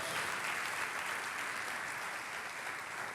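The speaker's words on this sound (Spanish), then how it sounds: "Aplauden al Rey." A church congregation claps through a worship service, dense steady applause holding at an even level for the whole stretch with no voice over it.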